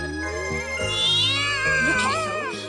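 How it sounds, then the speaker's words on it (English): A kitten meows in a series of drawn-out, wavering cries, loud and close, over a low sustained musical background. "They're kittens."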